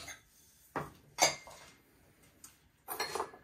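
Glazed ceramic bowls and rice bowls from a kiln firing clink against each other as they are handled, several sharp, bright knocks spaced irregularly, close but fairly quiet with no talk.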